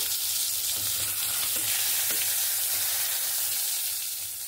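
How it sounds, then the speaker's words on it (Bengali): Pointed gourd pieces fry in hot oil with salt in a kadai, giving a loud, continuous hissing sizzle with light stirring scrapes throughout. "পটলটা আমি হলুদ দেবো না, খালি লবণ দিয়ে একটু ভেজে নেব।"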